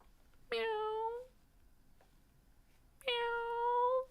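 Two clear, close cat meows separated by a short pause, each a drawn-out tonal call against a quiet background.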